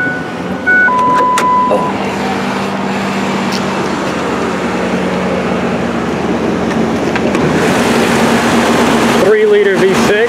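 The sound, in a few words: Ford Ranger truck 3-liter V6 engine starting and running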